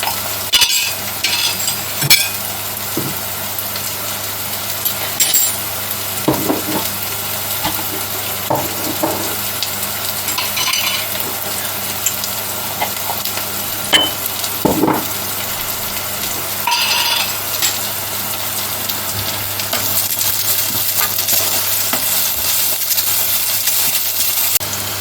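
Curry leaves frying in oil in a pan for a Sri Lankan bitter gourd (biththara dello) curry, a steady crackling sizzle with scattered sharp pops and metallic clinks of utensils throughout, fairly close and without talk.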